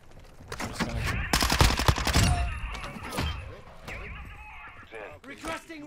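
Unsuppressed weapon fire in Call of Duty DMZ rings out as a loud, rapid burst of shots, followed by scattered single reports and game noise, with faint voices in the background.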